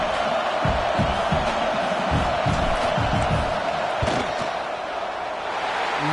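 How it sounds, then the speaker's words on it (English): Loud stadium crowd roaring continuously as a football team lines up a field goal attempt, a dense sustained wall of voices with scattered shouts. "This crowd trying to do its part to get inside the kicker's head."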